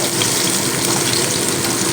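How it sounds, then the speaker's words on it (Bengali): Hilsa fish pieces frying in hot oil, a steady dense sizzle and crackle that stays loud and even throughout, with no voices. "ইলিশ মাছ ভাজছি"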